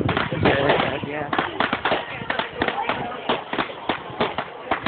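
Fireworks at Kendal Castle crackle and pop in quick, uneven bursts throughout, with people talking close by over the display.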